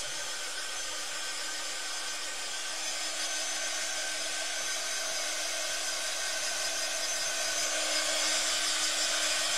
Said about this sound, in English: whilst I've got the heat tool out, I'm just going to give this a really quick blast just to make sure that it's ready to take some paint